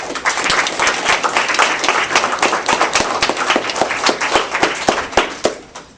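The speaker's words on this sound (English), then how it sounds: "Please give a round of applause to all of our guests." Audience applause for guests at an evening campus event with faculty present, a dense, steady crowd clapping with sharp individual claps standing out, loud and continuous throughout.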